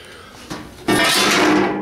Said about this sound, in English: Here's our floor pans.